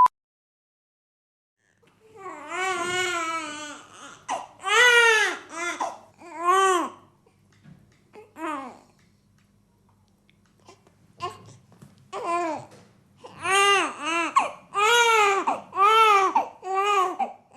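A newborn baby cries and babbles in a series of loud, close, rising and falling wails separated by short quiet gaps, with a longer pause partway through.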